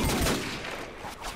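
Pistol shots in the Call of Duty 4 video game, a quick burst of loud, close gunfire with no talk over it.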